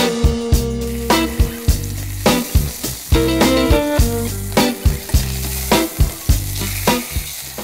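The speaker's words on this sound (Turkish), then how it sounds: "Tencerenin içerisine biraz yağ ekleyeceğim, sıvı yağ. Hafifçe mühürleyeceğim." Steady crackling sizzle of beef searing in hot oil in a pot, with repeated clanks and scrapes of a utensil stirring close by.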